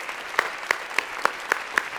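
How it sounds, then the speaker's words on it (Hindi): Six sharp, evenly spaced claps ring out alone at moderate level, a sparse audience applauding guest Nadia Hussain on a comedy talk show. "भरपूर तालियां"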